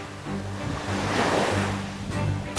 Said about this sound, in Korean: 파도 속에서 뒹굴뒹굴 휩쓸리네요